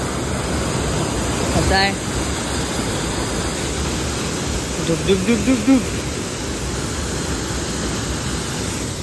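Amboli waterfall in monsoon rain, a loud, steady broadband roar of falling water filling the whole scene, with someone talking over it and briefly chanting a rhythmic syllable.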